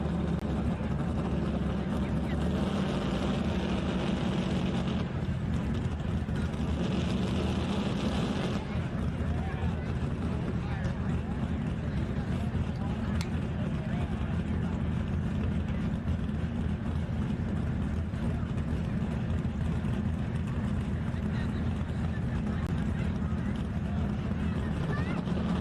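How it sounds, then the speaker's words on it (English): Single-engine modified pulling tractors roar at a tractor pull in Beloit, Ohio, a dense, steady engine thunder that fills the whole stretch, with an announcer's voice faintly under the din. "It is going to get loud as the single engine modifieds"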